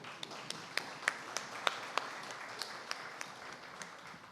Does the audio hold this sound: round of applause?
yes